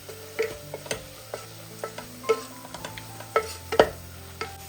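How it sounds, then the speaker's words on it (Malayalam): Spice powders with turmeric being stirred in a pan, soft intermittent scraping and clicking taps of a utensil over a faint low sizzle, quiet and close. "പൊടിയുടെ പച്ചമണം മാറുന്നവരെ ഒന്ന് ജസ്റ്റ് ഒന്ന് ഇളക്കി കൊടുത്താൽ മതിയാവും"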